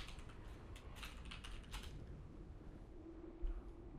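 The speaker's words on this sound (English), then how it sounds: "Why are you typing?" Someone types on a computer keyboard during an online game session, with quick, faint clicking keystrokes for about two seconds, then the room falls quiet.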